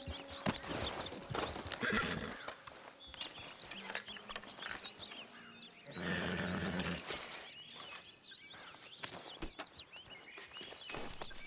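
Horse hooves clip-clopping in Red Dead Redemption 2, an irregular walking rhythm of close hoof thuds mixed with a whinny, other game sounds and a brief louder burst midway.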